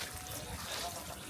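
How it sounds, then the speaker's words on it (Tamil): Water pours and trickles from pipes in Pethotty, a village in Kerala, making a steady, soft rushing splash that stays even and close with no talk over it. "தண்ணி விழுந்துக்கிட்டே தான் இருக்கு."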